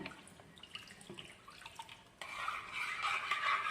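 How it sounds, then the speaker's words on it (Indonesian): Jenang grendol mixture with pandan leaves and water being stirred in a pot: light clinks and scrapes of the utensil, then a louder, continuous watery swishing and churning in the second half. "Kita aduk sampai tercampur merata."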